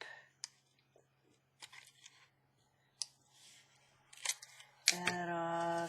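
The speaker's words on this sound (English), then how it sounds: "So I'm gonna cut that off." Scissors snipping a sheet of paper while making a triple-pocket paper craft: several sharp, quiet clicks and snips spaced out over a few seconds, followed by a brief voice near the end.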